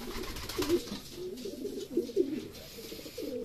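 Racing pigeons coo in a loft in Candelaria, Quezon after training, a run of soft, low, throaty rolling coos repeating close by over faint background noise, with no talk.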